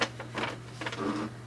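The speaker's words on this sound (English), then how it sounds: "it's taking the page in for the scanning" An HP Deskjet 3750 all-in-one printer pulls a page through for scanning, giving close, steady mechanical whirring with a constant hum and several short bursts of feed-motor noise across a brief stretch.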